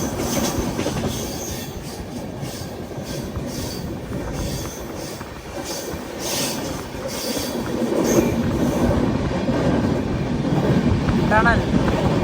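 A Humsafar Express hauled by three locomotives rolls along, with a loud, continuous rumble of wheels on rail, rhythmic clickety-clack and occasional squeals, heard from inside a 3AC coach. A voice is faintly present.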